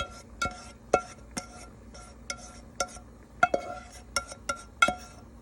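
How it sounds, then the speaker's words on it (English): Onions and peppers go back into a pan alongside cooked steak, with a string of light clinks and taps of a utensil against cookware spaced through a quiet kitchen background. "So I'm just going to add the onions and peppers back."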